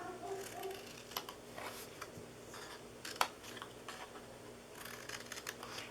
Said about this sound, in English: Now we're going to cut this off here.